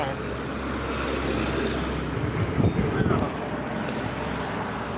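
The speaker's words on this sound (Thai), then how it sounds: "ลมแรง" Strong wind buffets the microphone outdoors at a roadside coffee stall in Bang Li, Suphan Buri, a continuous low rumbling roar with gusts swelling in the middle, while people talk faintly underneath.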